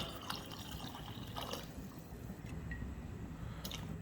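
Five cups of water trickle and splash softly into a pot of boneless mutton for biryani, a quiet continuous pour with small drips and sloshes.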